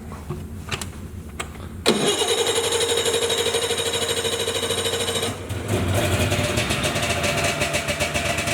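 A 340 snowmobile with an electric key start fires up after a brief crank with the choke pulled. It settles into a loud, steady idle that runs close up with a rattling engine note, and a short dip in revs comes midway.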